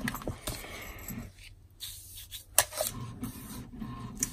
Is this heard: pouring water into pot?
no